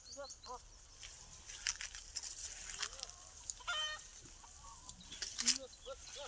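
Chickens and a rooster roam an orchard on a farm with goats, producing scattered clucks and short calls near and far over a faint outdoor background, with quiet murmuring voices.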